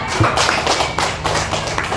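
A group of schoolchildren claps hands in a classroom, a brief burst of quick, uneven claps with taps and thumps close by, and voices talking through it.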